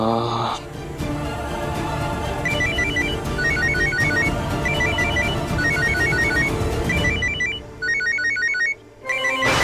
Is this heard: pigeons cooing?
no